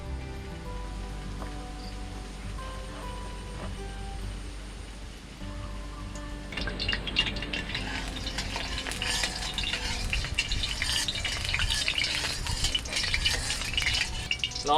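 Oil heating in a pan before shrimp go in for Thai salt-and-pepper stir-fried shrimp: a steady low crackle that swells into a louder, dense sizzle partway through, continuous and close, with no talk.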